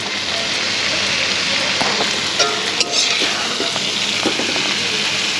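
Potatoes sautéing in a pan, a steady close sizzle with occasional scraping stirs and soft clinks from a utensil, continuous throughout.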